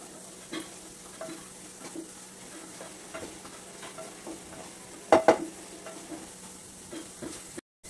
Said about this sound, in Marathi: आता भाज्या भाजत आलेल्या आहेत